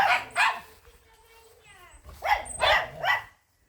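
Shih Tzu dogs bark at home in short, loud bursts of sharp barks and yips, with a quieter whiny stretch in between before another cluster of close barking.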